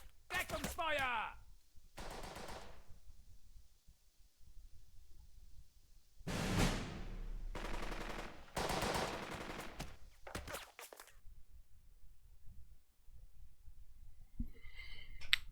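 Covering gunfire in the Burden of Command war game comes as several clustered bursts of rifle and machine-gun fire, moderately loud with short quiet gaps between volleys.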